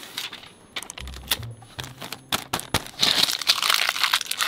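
A plastic poly mailer crinkles and crackles as its adhesive strip is peeled off, with a quick run of close, sharp crackling bursts that grow denser and louder toward the end.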